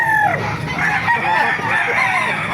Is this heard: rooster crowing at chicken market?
yes